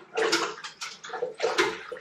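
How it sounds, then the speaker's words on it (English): Hard seltzer liquid stirred vigorously in a fermenter, with rhythmic sloshing and swishing strokes, close and fairly loud, with no voices. "I'll give this a good stir."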